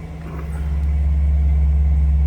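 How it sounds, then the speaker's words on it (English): A 2014 Chevrolet Corvette Z51 engine idles with a steady low rumble, close and fairly loud, swelling slightly at first then holding even. "Start it up. Let's hear it run."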